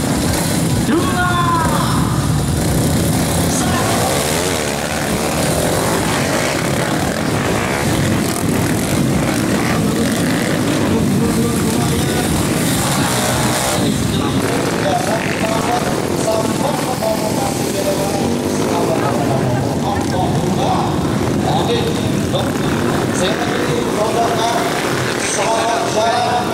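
Trail motorbike engines rev together in a loud, continuous roar at a community trail adventure event in Dongko, rising and falling throughout, while voices are heard over the din.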